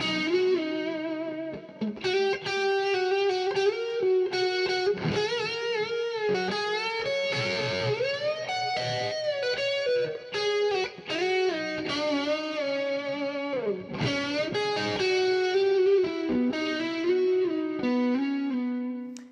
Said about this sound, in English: used a simulation of an iWatt amp paired with a model of a Maxon overdrive